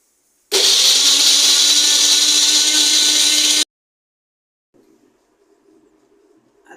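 A mixer grinder blends soaked almonds with water into a smooth paste for a bottle gourd soup: one loud, steady whirring run of about three seconds that starts and stops abruptly, followed by faint low background noise.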